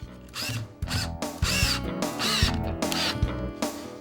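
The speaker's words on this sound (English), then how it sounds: "I screw the wall cleat into one stud." A power drill drives a screw through a wall cleat into a stud indoors, with several close, short whirring bursts that rise in pitch and stop and start in quick succession.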